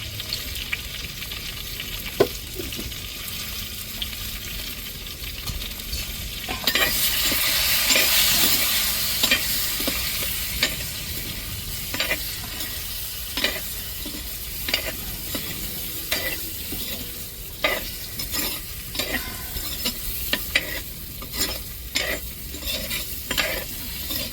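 Eggplant fries in oil with turmeric and salt, sizzling steadily while a spoon stirs and scrapes the pan in repeated sharp clicks, the sizzle briefly swelling louder partway through.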